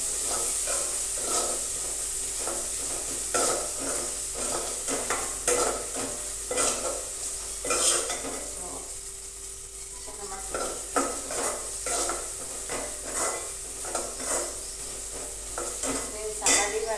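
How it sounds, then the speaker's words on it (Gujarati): Tomatoes, chillies and garlic fry with onion in a pan, a constant sizzle broken by repeated scraping and stirring clatters from a spoon, close and busy throughout, with no voices. "હવે આપણે ટમેટા, મરચાં અને લસણ નાખી દઈશું. તો તે પણ તો ડુંગળી ભેગું ચડી જાય બરાબર."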